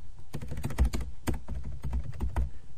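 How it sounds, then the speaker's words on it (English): Fingers tap out a command on a computer keyboard, producing a quick, close run of crisp key clicks with a few heavier strokes, with no talking. "type the command ipconfig"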